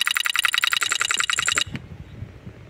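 A wobbly ceiling fan gives off a fast, loud, regular clicking rattle for about a second and a half, then the rattle cuts off, leaving a softer low rumbling and faint knocks.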